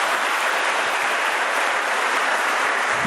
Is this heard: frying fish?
no